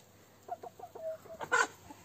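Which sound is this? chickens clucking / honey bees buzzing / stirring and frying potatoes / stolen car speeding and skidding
chickens clucking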